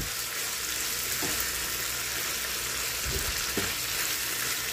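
String beans sautéing in a pan with shrimp paste, a constant hissing sizzle with a few soft stirring scrapes and taps.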